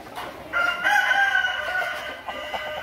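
Chickens at a poultry scale or market, with a rooster crowing loudly and close over steady clucking from the flock, the crow rising after a half-second and trailing off.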